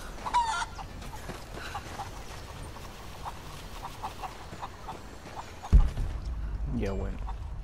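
Hens in Rise of the Tomb Raider give clucks and squawks, a sharp call early on, then softer scattered clucks over game ambience before a heavy thud and a rising cry near the end.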